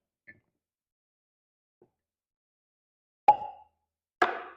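A tight cork pulled from a bottle of Hochatown premium small batch whiskey, two sharp squeaky pops about a second apart, close and fairly loud, after a couple of tiny ticks in otherwise quiet surroundings.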